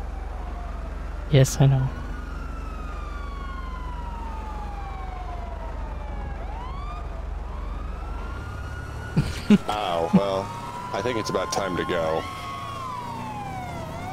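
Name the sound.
emergency vehicle siren in video game Grand Theft Auto V Online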